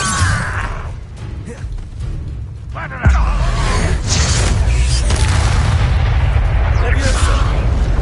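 An Incendio fire spell from Hogwarts Legacy goes off in a loud, booming blast, and a dense roar carries on after the hit, with a voice speaking over the game audio.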